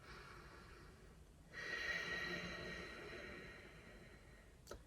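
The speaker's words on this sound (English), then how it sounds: "It's called Ujjayi breath" A close, airy Ujjayi breath, a noisy exhale through a closed mouth, rises after a quieter breath. It is a soft, hissing, sustained rush that slowly fades, heard alone without talk.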